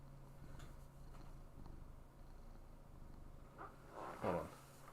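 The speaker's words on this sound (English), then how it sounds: "You want to hear him purr?" A cat purrs faintly and steadily up close in a quiet indoor space, with a brief louder rumble near the end.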